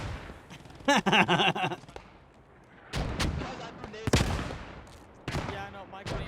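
Battle gunfire and explosions in the WWII shooter Post Scriptum, fighting for a building around Nijmegen: rattling bursts of rifle and machine-gun fire with heavy blasts, some near and some distant, while players talk over the radio.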